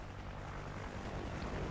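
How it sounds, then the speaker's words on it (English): A helicopter in the Call of Duty: Ghosts video game makes a low, continuous rotor and engine drone that runs steadily and fairly faintly throughout, with no voices over it. "Helicopter!"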